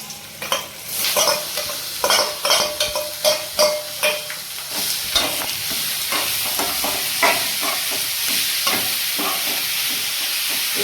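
Beetroot fries in a pan for a poriyal, with a rhythm of repeated spatula scrapes and knocks over a continuous bright sizzle. No one speaks.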